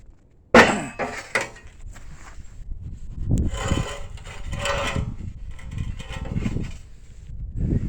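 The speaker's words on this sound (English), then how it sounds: "I'm going to center punch that one and see how good of a hole I can get in there." A sharp metallic strike of a center punch on metal rings out, followed by a few lighter taps and then steady shop clatter and handling noise.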